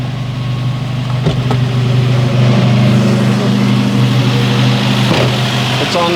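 Opel CIH four-cylinder engine running steadily at a fast idle, a loud, even close-up hum with faint clatter and a couple of brief knocks.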